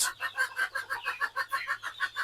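A rapid, rhythmic series of clucks from caged breeding hens, about a dozen in quick succession, close and clear with no talking.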